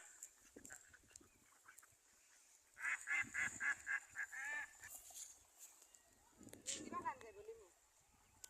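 A run of rhythmic nasal quacking calls from a few ducks near a pond, then a second burst of calls, amid quiet outdoor background noise.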